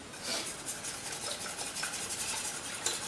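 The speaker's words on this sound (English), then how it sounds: "And whisk that around." A whisk scrapes steadily through banana bread batter with mashed banana chunks in a bowl, a soft continuous rhythmic rubbing and swishing, close and quiet with no talk.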